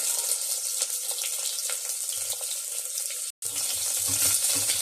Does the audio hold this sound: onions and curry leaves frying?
yes